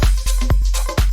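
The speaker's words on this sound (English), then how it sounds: "this bass sound is like really mostly a sub bass" Tech house synth sub bass with bright upper harmonics, a deep sustained low tone punctuated by a few short rhythmic plucked hits and pitch drops, loud and alone.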